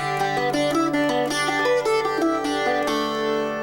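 A short phrase of a jig melody picked fingerstyle on a cittern, bright plucked notes ringing close and clear with no voices.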